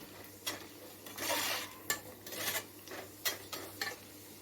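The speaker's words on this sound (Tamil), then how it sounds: "இதிலே வந்து கொஞ்சம் முந்திரி கொஞ்சம் வறுத்துக்கோங்க." Cashews, lentils and curry leaves roasting in a pan for Bombay mixture, with faint, scattered clinks and scrapes of a spatula against metal at an irregular pace.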